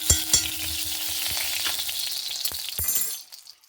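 About a spoonful of ghee heating in a hot pan for an aloo packet snack, a loud close sizzle with a few sharp clinks of a spoon, before the sound cuts off near the end.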